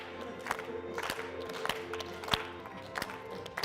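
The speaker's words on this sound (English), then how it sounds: "we gotta clap for them" Crowd at a Louisville Metro Parks program event claps and cheers from a distance: quiet, scattered hand claps with a few sharper peaks and a low murmur of voices underneath.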